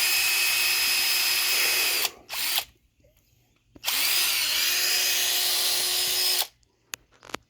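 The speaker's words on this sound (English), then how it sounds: "And I'm just going to drill around this." A power drill whirs loudly in two long bursts into green wood, each running several seconds with a brief quiet gap between, no talking.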